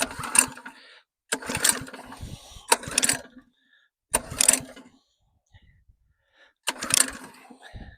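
A small petrol engine being pull-started one-handed: five separate loud bursts of cranking and sputtering, each dying back to silence, with faint handling noises in the gaps.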